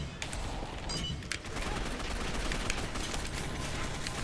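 Sustained rapid gunfire in the online shooter Gotham City Impostors, a dense, loud stream of overlapping shots from several players with no voices over it.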